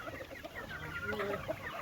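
A rooster, a wild-type village fowl, clucks softly in short bursts, faint and fairly distant, with no talk over it.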